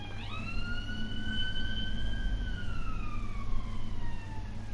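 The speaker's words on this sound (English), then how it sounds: "There was police sirens." A police siren wails in the Firefighting Simulator video game, one loud, rising and falling tone sweeping over a steady low engine rumble, with no talk over it.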